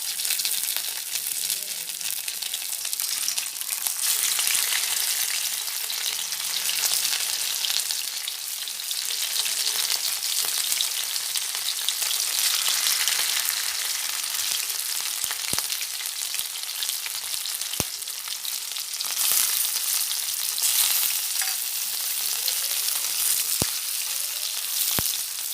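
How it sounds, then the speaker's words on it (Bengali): Chitol fish muitha dumplings fry in a pan of hot oil, a steady broad sizzle that holds for the whole stretch, with a few sharp clicks and pops near the end and no voices. "তেলের কড়াই গরম বসিয়েছি, মুঠোগুলোকে ভাজবো"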